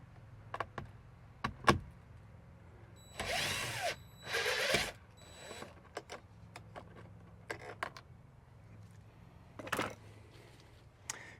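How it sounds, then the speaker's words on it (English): Power driver with a socket spinning bolts out of a Ford Bronco rear door: two loud buzzing bursts of a few seconds each, with scattered clicks and taps of the bolts and tools around them and no talking. "So now we're just going to go ahead and take all these bolts out of here."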